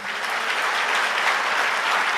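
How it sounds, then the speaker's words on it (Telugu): A large audience claps steadily and loudly, a dense continuous wash of applause with no pauses, filling the space evenly. "అందుకు కొట్టండి చప్పట్లు"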